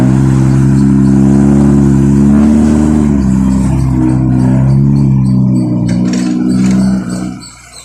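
A 5.8-ton dump truck climbing in the rain revs its engine loudly and close, a strained droning roar whose pitch rises and falls before it fades away near the end.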